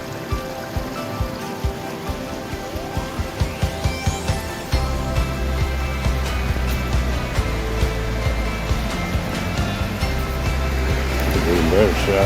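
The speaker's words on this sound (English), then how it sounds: "Of course, we got the tiny waterfall." A tiny outdoor waterfall flowing at Mardis Mills, a steady broadband rush of splashing water heard close and continuously, with some faint rustles and handling noises early on.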